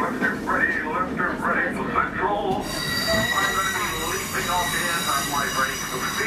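A train rolls along the rails on the way to Cardiff, a steady close rumble with high metallic wheel squeal running throughout and a muffled voice faintly audible early on.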